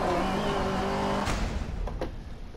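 An Opel Manta 400 rally car's engine drones steadily at a fairly constant pitch in a rally racing game, holding a sustained note before easing off, with a couple of brief clicks near the end.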